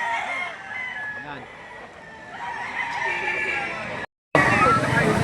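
Rooster crowing and clucking from chickens fill a busy chicken auction market, the crows rising over crowd murmur and someone speaking, cutting off briefly before louder chatter resumes.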